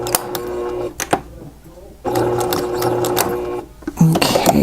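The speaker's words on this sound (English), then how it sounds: "what I'm going to do is I'm going to back stitch" Sewing machine back stitching while machine quilting a small quilt project: bursts of rapid mechanical stitching, loud and close, broken by brief pauses and a short gap.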